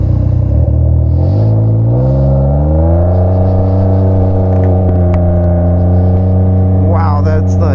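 A 2021 Can-Am Ryker Rally with an aftermarket exhaust rumbles deep and loud, its low drone climbing steadily in pitch as it accelerates and then holding a throaty steady tone, with some clatter near the end.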